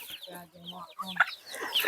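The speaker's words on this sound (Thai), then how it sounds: "นี่ทุกท่านไก่นี่" Farmyard chickens cluck and chatter nearby in a short burst of repeated, rising calls, fairly close and clear.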